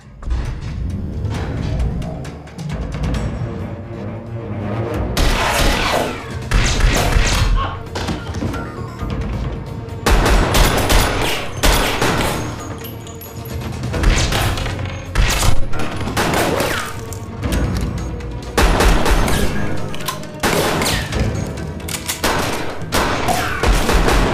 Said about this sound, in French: On lui a tiré dessus.